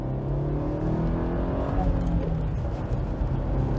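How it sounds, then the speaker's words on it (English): Mercedes W203 C200 Kompressor supercharged engine heard from inside the car while driving, a steady hum with a faint supercharger whine over road noise, moderately quiet. "It actually makes quite a decent sound, this engine, as well. You get hints of that supercharger whine"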